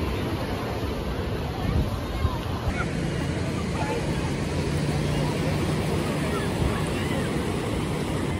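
Sea surf at Ganpatipule beach in the rain, a steady broad wash of waves rolling close by with a soft rumble beneath, continuous throughout with no clear breaks.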